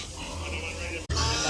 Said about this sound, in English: Whoa, that pig is huge.